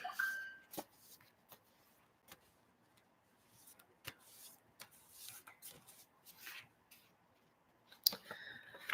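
Quiet, intermittent riffling and slapping of tarot cards being shuffled by hand, with soft clicks between bursts, close and without speech.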